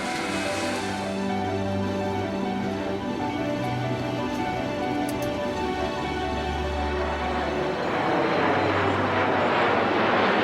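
Inside a Boeing 747-400 airliner in flight, a loud, constant engine roar and cabin hum fills the space, steady throughout with slight swells.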